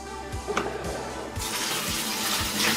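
A washing machine's drain hose empties water into a small bucket after a load of darks, a steady gushing flow that swells louder partway through with a few dull knocks, no one speaking.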